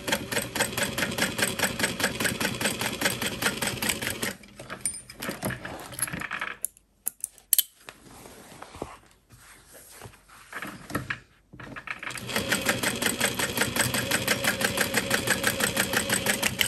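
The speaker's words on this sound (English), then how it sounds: "So I'm going to butterfly open that stitch and just sew down each side." A sewing machine stitches down the sides of backpack pockets, running loud and steady with a rapid mechanical rhythm, pausing for several seconds of quieter handling noises before starting up again at full speed.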